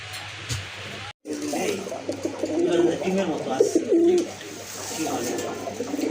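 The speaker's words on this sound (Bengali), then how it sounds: "এই যে নিচেরটা হচ্ছে মাদি কবুতর" Pigeons coo in low, rolling bursts at close range, a pair of large pigeons kept by a Bengali pigeon seller, with a brief cut near the start and steady background hum underneath.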